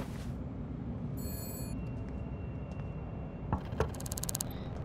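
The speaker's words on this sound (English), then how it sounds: "Whose phone's ringing?" A telephone rings in two short electronic bursts, one early and one near the end, over a steady low background rumble with a faint clink between them.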